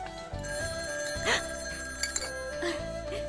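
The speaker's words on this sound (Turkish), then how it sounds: "Yeni telefonum ilk kez çalıyor." A new telephone rings with a steady electronic trill that holds for several seconds, close and clear over faint background room sounds in a Turkish TV film scene.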